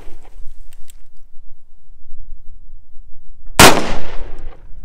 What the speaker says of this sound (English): a chain fire that happened to me when I was shooting a Lamat